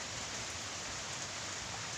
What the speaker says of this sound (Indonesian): Memang hujannya tidak lebat